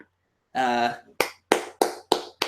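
Crowd applause at a live NXT Takeover Brooklyn pro wrestling event, heard after a vocal burst as a series of sharp, loud rhythmic claps with short gaps between them.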